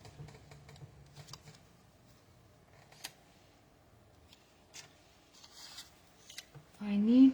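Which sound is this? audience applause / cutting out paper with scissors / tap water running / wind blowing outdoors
cutting out paper with scissors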